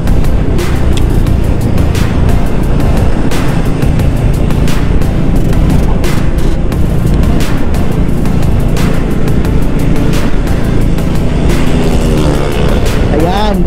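Several motorcycles, a Suzuki Raider 150 Fi among NMAX and Aerox scooters, ride together on a breakfast group ride, a steady loud rush of engines and wind noise throughout with passing vehicle sounds.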